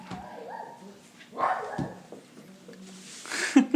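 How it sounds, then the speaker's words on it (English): An old dog barks and whimpers indoors in a few short, scattered bursts of yips and woofs, moderately close, with faint background noise between them. "Dog."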